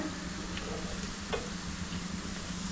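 A snack fries in oil with a soft, continuous sizzle and a couple of faint clinks, quiet and steady with no voices.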